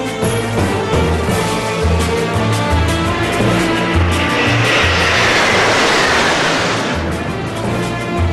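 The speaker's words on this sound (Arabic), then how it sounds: "ومن خلفهم فريق النجوم الفضية لتأدية مناورة الوردة المتفتحة في أروع ختام للعرض الجوي" Egyptian Air Force Silver Stars aerobatic jets perform the blooming rose maneuver as an airshow finale. A loud, continuous roar swells to a peak and then fades, with no talk over it.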